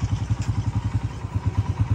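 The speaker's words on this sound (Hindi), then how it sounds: "चलो फटाफट से बाइक स्टार्ट करते हैं यार" A motorbike engine runs close by, giving a steady, throbbing low putter with an even pulse throughout and no voices over it.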